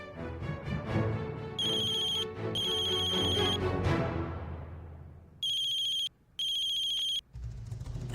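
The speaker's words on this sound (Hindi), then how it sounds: "किसका फोन था?" An electronic telephone ringtone sounds in a Hindi TV drama, four loud repeated bursts cutting in over background music, with short gaps between rings.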